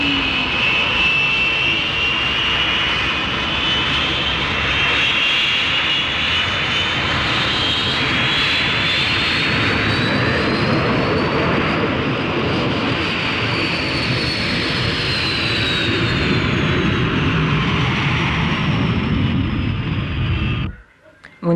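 A North American F-86D Sabre jet taxis at full 100% power, a loud steady roar with a rising whine that holds for about twenty seconds before cutting off abruptly.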